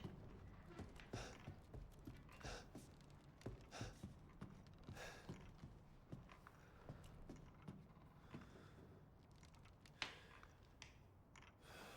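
Goat hooves in Resident Evil Village clatter nearby in scattered, irregular steps, each a sharp tap over a quiet, low background.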